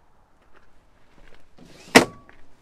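A fly screen door on a 2007 Rapido Le Randonneur 9097F motorhome slides across the habitation door, a soft rolling rustle ending in one sharp, close snap as it latches, then quiet.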